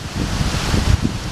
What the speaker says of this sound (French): là, c'est bon, il y a des rafales de vent